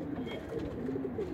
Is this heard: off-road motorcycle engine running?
no